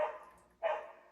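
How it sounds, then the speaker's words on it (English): A pet dog named Khaleesi lets out two quick, close barks indoors, with a short gap between them and no talking. "my dog. Barking a lot"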